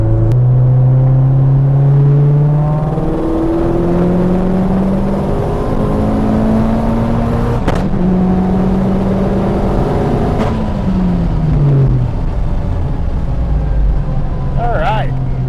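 Fully built Mazdaspeed 3 with a BNR S5 turbo revving hard through a fourth-gear dyno pull, engine pitch rising steadily, loud and close, then dropping off and settling near the end.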